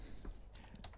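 Keys on a computer keyboard are typed to enter a command during a Windows setup, a quick run of soft clicks over about a second, faint and close, with no talk.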